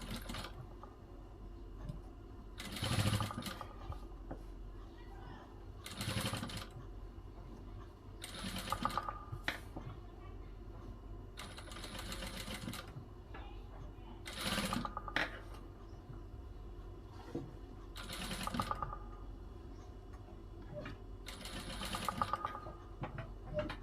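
A sewing machine stitches a folded sleeve frill in repeated short bursts of rapid mechanical whirring and clicking, separated by brief pauses, close and fairly quiet, with faint background noise in the gaps.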